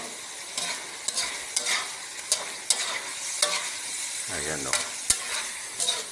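Pork adobo frying in oil and being stirred in a pan, a steady crackling sizzle broken by repeated scraping stirs and spoon knocks, with someone speaking briefly over it.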